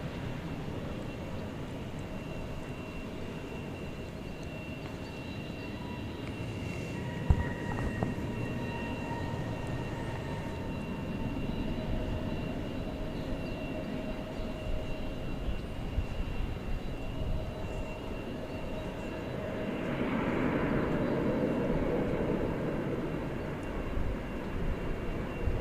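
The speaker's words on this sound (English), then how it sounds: "Okay, the 747 is rolling." A Boeing 747 rolls along a runway at DFW Airport, a steady broad engine roar with tonal whine lines that holds throughout, swelling louder toward the end, heard at a distance among outdoor ambience.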